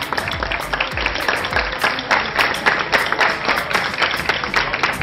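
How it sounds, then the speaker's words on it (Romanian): Audience applause at an outdoor Onion Day celebration in Mihai Viteazu, with steady dense clapping throughout the whole span, moderately loud, with scattered low rumbles and no clear voices over it. "Vă rog să vă aplaudați."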